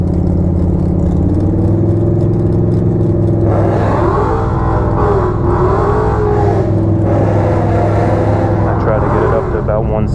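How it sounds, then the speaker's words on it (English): A Buick at a drag strip idles with a low, steady engine hum, then revs and accelerates. Its tone rises and wavers over several throttle surges, and the loud engine noise continues throughout. "We're just shaking down the Buick, trying to get a little more heat in it at the moment."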